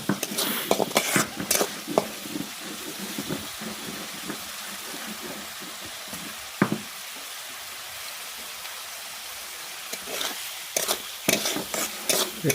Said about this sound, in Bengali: উল্টিয়ে পাল্টিয়ে নেব, কিছুক্ষণ উল্টিয়ে পাল্টিয়ে নেব